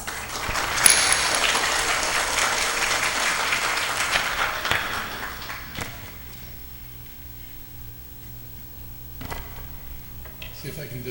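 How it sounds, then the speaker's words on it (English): Applause from an audience at an annual interfaith program in Maryland welcomes a speaker, loudest in the first four seconds and then thinning to scattered claps over quieter room sound. "Please welcome him with a round of applause."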